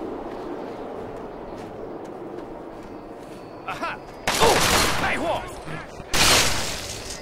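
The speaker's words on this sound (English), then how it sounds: "Damn, he exploded." An enemy blows up in the game Fallout 3 with sharp gunfire-like blasts, first a smaller burst and then two loud, broad explosions that ring out and decay, over a low game background.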